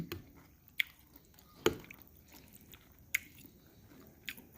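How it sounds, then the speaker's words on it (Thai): Close, wet chewing and biting while tasting liver in thick rice noodle soup (kuay jab nam khon), with a few sharp smacking clicks over a quiet background and no talking. "เรามาชิมตับกันนะจ๊ะ"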